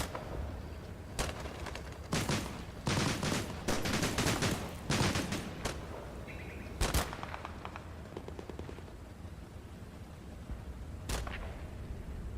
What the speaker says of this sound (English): immediately picks up where the fire's coming from and lays on some machine gun fire